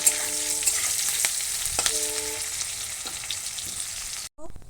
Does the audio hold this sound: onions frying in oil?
yes